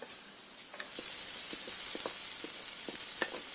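Chopped thottavadi (touch-me-not) leaves with salt sauté in a pan over medium flame, a steady soft sizzle broken by scattered light clinks and scrapes of stirring.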